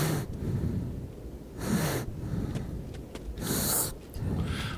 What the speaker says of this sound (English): I can't stand that breathing noise anymore.